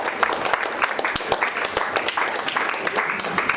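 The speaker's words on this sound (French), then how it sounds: "Est-ce qu'on peut acclamer la parole de Dieu?" A church congregation applauds and cheers during a sermon, a dense burst of clapping from many hands filling the room, steady and fairly loud throughout with a few voices mixed in.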